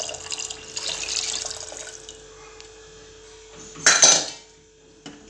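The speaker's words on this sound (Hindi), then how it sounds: "अब जो हम दूध लिए हैं 1/2 लीटर, इसे भी हम डाल लेंगे।" Half a litre of milk pours into a pan of roasted turmeric paste, a steady liquid splash that swells briefly before a metal utensil clinks against the pan near the end.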